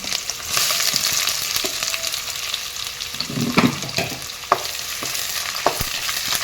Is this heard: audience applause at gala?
no